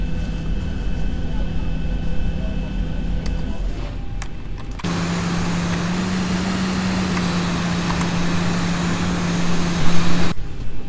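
Zibo 737 jet engines in X-Plane 11 give a steady, loud, droning whine during taxi. Partway through the tone steps up to a stronger, even rumble with a clear hum, then drops off near the end.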